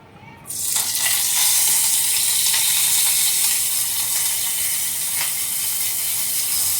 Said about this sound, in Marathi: थोडंसं तेल घातलं. थोडासा कढीपत्ता आम्ही फोडून ठेवला होता, आपण थोडा फोडणीला देऊया.